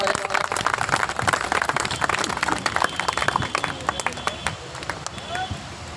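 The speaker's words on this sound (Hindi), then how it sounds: "इनका जोरदार तालियों के साथ स्वागत करें।" A crowd gives steady, vigorous applause to welcome a judge at the ribbon-cutting opening of a news office branch, with the clapping holding dense and close for several seconds while an announcer speaks over it.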